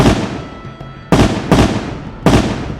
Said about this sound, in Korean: 어디선가 커다란 총소리가 들렸다.